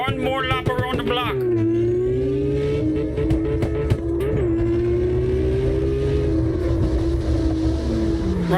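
In the CarX Drift Racing Online video game, a car engine blips and flutters, then settles into a steady, droning rev held loud and close for several seconds. It wavers slightly and trails off at the end.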